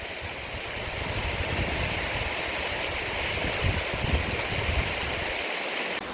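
Water pours steadily over the rocks at Morans Falls, a loud, even, broadband rush heard close and alone without pause.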